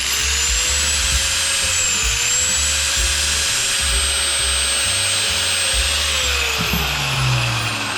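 An angle grinder runs on a Thunderbox Galaxy 1000 pure sine wave inverter, giving a steady high whine with a constant motor drone underneath that holds for the whole stretch before easing slightly near the end.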